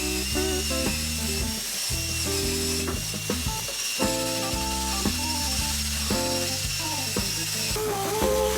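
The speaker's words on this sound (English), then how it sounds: "using a wire brush and a drill to tackle tough buildup and rust spots." A power drill fitted with a wire brush scrubs rust and buildup off a lawn mower, whirring continuously with a grinding, rattling scrub as its speed and pitch shift up and down, loud and close throughout.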